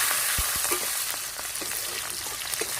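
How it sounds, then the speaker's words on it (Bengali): Whole garlic cloves and nigella seeds fry in hot oil, a dense, steady sizzle with soft pops and a few low stirring knocks, close and continuous with no talk. "একটু ভেজে নিই রসুনটা"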